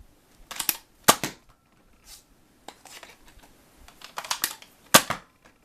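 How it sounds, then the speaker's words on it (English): A Nerf Defender T3 blaster fires its last couple of shots, giving a string of dry plastic snaps and clicks, a few sharper pops standing out among lighter mechanical ticks, close and with no talk. "I'm gonna go fire the last couple of shots with them separated"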